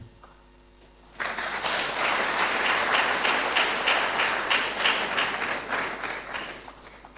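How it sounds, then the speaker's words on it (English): An audience at an inaugural university lecture bursts into applause after a quiet moment, a dense, even round of many hands clapping that stays strong and close for several seconds before easing slightly. "I guess our chair has inspired us to clap for Professor Aryetey's family."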